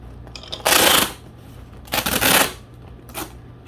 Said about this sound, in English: And I'm just gonna tape it up.